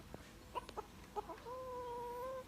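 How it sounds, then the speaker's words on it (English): Rare chickens with thick, furry feathered feet cluck in a San Diego petting zoo, a few short close clucks followed by a longer drawn-out call, fairly quiet with no talking. "Look at these chickens."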